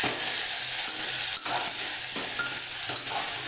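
Marinated chicken frying in a pan for a chicken curry, a steady close sizzle with intermittent stirring scrapes, no voices.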